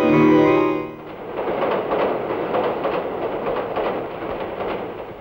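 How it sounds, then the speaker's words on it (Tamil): A train runs along the rails with a steady, loud rolling roar and faint rhythmic clatter of wheels, following a brief tonal sound at the start. "இந்த ரயில் சத்தத்தில"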